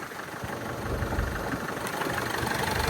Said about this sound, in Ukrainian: Зараз він трошки працює на підвищених обертах, тому що автомобіль холодний, я його не прогрівав.